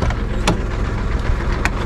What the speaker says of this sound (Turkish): Şu arabayı da yerine çekelim.